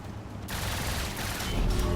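Rapid machine gun fire from a Bf-109 Z-1 twin-fuselage fighter in the Trailmakers building game, a sustained dense burst that kicks in after a brief lull and keeps rattling loudly to the end.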